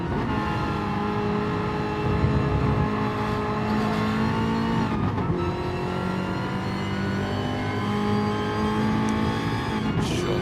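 Race car in a racing video game climbs a hill toward the corkscrew, its engine holding a loud, sustained high-revving drone with brief shifts in pitch, heard alone.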